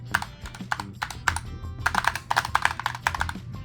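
Rapid clacky keystrokes on a Razer Huntsman Tournament Edition TKL keyboard with linear switches, close up, in uneven bursts of typing with short gaps between flurries.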